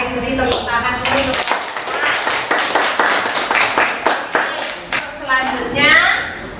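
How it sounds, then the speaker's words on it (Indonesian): A school class claps together in a classroom, a run of sharp, evenly spaced group claps in a quick rhythm, bracketed by children's voices and chatter at the start and end. "Baik, beri tepuk tangan dulu."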